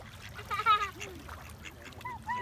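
Ducks being fed give a few quiet quacks and nasal calls at close range over a low background hum, with faint voices nearby.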